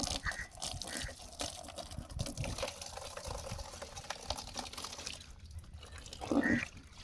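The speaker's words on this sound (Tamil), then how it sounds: "இப்போ வாங்க இதில் தண்ணி பிடிச்சி உங்களுக்கு மீன் விட்டு காட்டுறேன்" Water from a tap is poured into an empty fish tank, a soft continuous trickling and splashing that stays faint throughout, with no talk.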